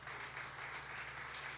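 A church congregation at a prayer service applauds together, a steady, even wash of many hands clapping heard from a distance, soft and sustained without breaks.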